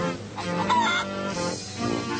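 Chickens clucking and squawking nearby, a few honking, raspy calls over a steady background hum.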